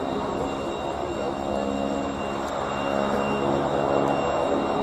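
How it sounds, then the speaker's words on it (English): Harvard trainer with its 600 horsepower Pratt & Whitney Wasp radial engine flying past at an air day, a continuous harsh rasping drone with buzzing propeller tones that swells slightly toward the end. "That characteristic rasp of the 600 horsepower Pratt & Whitney Wasp radial engine."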